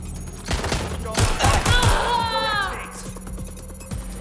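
Rapid bursts of gunfire ring out in the video game Watch Dogs Legion: a close, loud flurry of shots with a swelling whine as it fades, set against a steady background hum.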